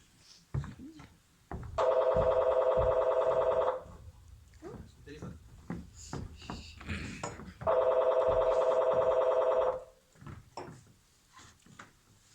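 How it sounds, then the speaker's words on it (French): An old-style telephone bell rings in two long bursts separated by a pause, with people talking quietly around the rings. "Son téléphone."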